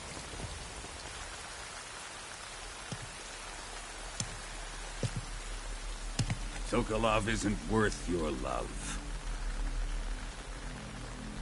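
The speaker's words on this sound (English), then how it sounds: "You can entertain me until the rain stops." Rain falls steadily across the scene in the video game Metal Gear Solid 3 Delta, a constant hiss under the game's characters talking. A few sharp ticks come through early, and the voices grow louder toward the end.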